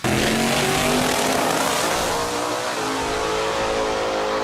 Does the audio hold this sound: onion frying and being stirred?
no